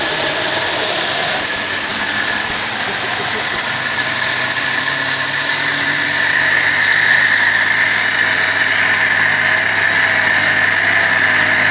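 A Panasonic blender grinds gram flour with a loud, steady motor whine that holds constant for the whole stretch, its pitch shifting slightly after the first couple of seconds, close up with no talking.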